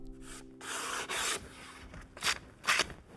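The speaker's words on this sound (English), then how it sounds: "actually just tidying them up with a little sandpaper" Sandpaper rubbed by hand over the wooden side pieces of a storage chest, a few short, soft rasping strokes with brief pauses between, close and quiet.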